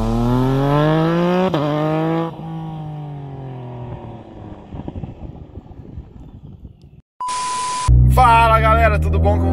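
A VW Polo GTS revs hard, its exhaust roaring in rising and falling sweeps up close. A short electronic tone cuts in near the end, and then the engine roars again loudly.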